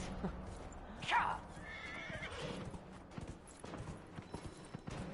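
A horse in Dragon Age: Inquisition neighs sharply, then its hooves clip-clop in a steady galloping rhythm, fairly faint beneath a low game soundscape.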